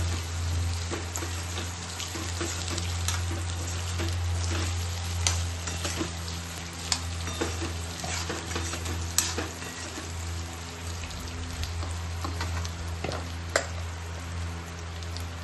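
Potatoes for batata poha stirred into a hot pan, with a steady close sizzle and frying hiss throughout, broken by occasional light clicks and scrapes of the spoon.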